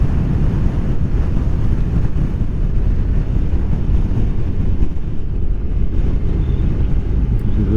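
Steady, heavy wind buffeting the microphone while riding a Honda NC750XA motorcycle, a constant low roar filling the whole stretch with no speech.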